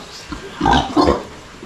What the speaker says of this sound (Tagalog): Yung mga baboy natin dito mga kaprobinsya, oh.